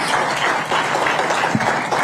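An audience applauds loudly to welcome a speaker on stage at a road safety event, a dense continuous burst of clapping throughout.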